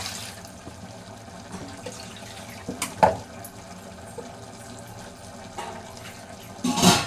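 Tap water runs and splashes while a mixer jar is rinsed in a home kitchen, a steady low trickle with a few clinks and louder splashes near the end, close by.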